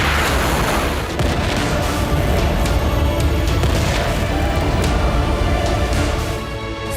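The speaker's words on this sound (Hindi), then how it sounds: "सबसे बड़ी मिसाइल स्ट्राइक," Missile strike explosions in a war zone, part of the Iran–Israel conflict: a sustained, loud roar of blasts and rumbling booms with sharp cracks scattered throughout, dense and continuous with no speech.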